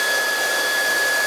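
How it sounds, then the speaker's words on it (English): A hair dryer blows steadily and loudly up close as hair is blow dried with a paddle brush, a constant whirring hiss with a fixed high whine and no talk. "you can see the moment I blow dry down here and pull"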